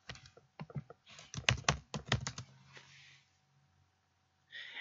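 Fingers type on a computer keyboard in short, uneven bursts of close, crisp key clicks, then a pause and a final quick flurry of keystrokes.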